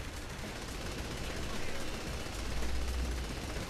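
Continuous gunfire from a crowd of shooters in the video game Saints Row 3, a dense, steady wash of shots with deep rumbling booms that swell toward the end, with no clear talk over it.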